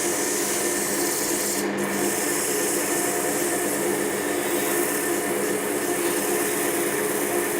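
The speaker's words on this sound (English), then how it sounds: "starting at the 180 grit here, and as I'm sanding this, you should be able to see the dust literally falling to the bed of the lathe" Wood spinning on a lathe being sanded with 180 grit abrasive gives a constant, loud, close rubbing hiss with the lathe's hum beneath, unbroken throughout.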